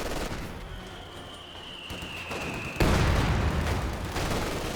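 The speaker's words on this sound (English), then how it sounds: "We got a high yield barrage coming on in now, getting a good hit there" Artillery barrage and gunfire in the Company of Heroes 2 battle game, a thin whistling tone giving way to a heavy burst of explosions and rolling gunfire, loud and dense throughout.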